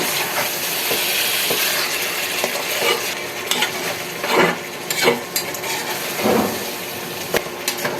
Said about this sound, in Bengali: আবারও নেড়ে চেড়ে দিচ্ছি